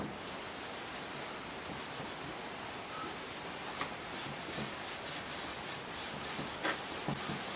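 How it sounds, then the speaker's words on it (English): Rust converter is rubbed by hand onto a scythe blade, a soft, steady, close-up scrubbing hiss with a few faint taps and scrapes. "Soak a little bit more. Oop, that heats. Right, rub it"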